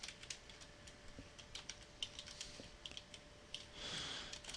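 Fast, uneven typing on a computer keyboard while entering code for a quadratic equation solver, with close, crisp key clicks that run continuously and include a few louder strokes.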